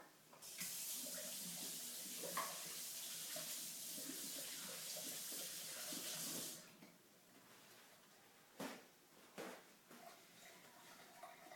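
A kitchen tap runs steadily for several seconds as hands are washed, then shuts off, followed by a few faint clinks and splashes.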